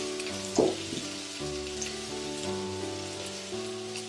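Seafood and fish balls sizzling with garlic in a hot wok for char kway teow, a steady, close, rain-like crackle with a faint low tonal hum underneath.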